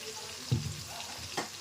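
Spoon stirring crab curry masala with a splash of tomato sauce in a pan, two short scraping strokes with a soft sizzle underneath, close and fairly quiet.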